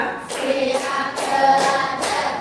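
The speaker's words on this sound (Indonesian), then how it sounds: "Ya, tepuk tangan dulu." Children in a classroom clap hands in a few short bursts, a fairly quiet rhythmic patter with no talk over it.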